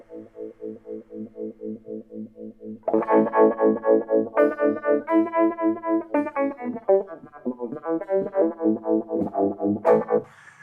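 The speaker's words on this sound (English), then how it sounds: "So a normal tremolo sound, no big deal, nothing all that exciting." Electric guitar through a tremolo effect on a Fractal FX8 effects unit, the chords pulsing in a steady, even rhythm of volume swells, with the note pattern shifting partway through.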